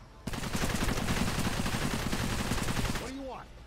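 Rapid automatic turret gunfire at a base in the video game Cepheus Protocol, a dense loud burst of fast repeated shots lasting about three seconds before cutting off, followed by a brief electronic tone.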